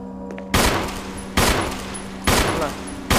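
Four loud pistol shots in the Resident Evil video game, spaced under a second apart, each a sharp broadband blast with a short ringing tail, close and dominant over faint game ambience.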